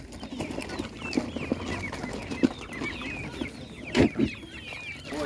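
Chickens and young roosters cluck and chatter continuously at a busy, noisy village market, with a few louder squawks standing out.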